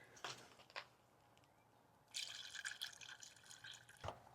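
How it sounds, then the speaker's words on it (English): Radiator cleaner and then water poured into the radiator of an overheating Chevrolet Impala, with short splashing bursts followed by a steadier, louder gurgling stream of liquid filling the opening. "now we just pour in the stuff and then fill it the rest of the way up with water"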